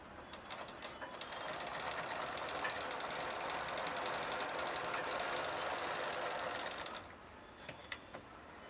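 A 4-in-1 electric sewing machine stitches fabric in a fast, even whir for about six seconds, with a few soft mechanical clicks when it stops.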